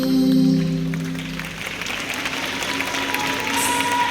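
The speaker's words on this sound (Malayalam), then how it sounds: "നല്ലൊരു കൈയടി" An audience at the launch of an online channel during a 25th anniversary celebration in Thiruvananthapuram claps at moderate volume, the applause fading in over a music chord as it dies away.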